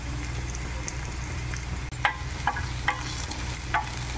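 Nalleru stems fry in a pan with a constant sizzle, joined by a handful of light scraping stir strokes in the second half.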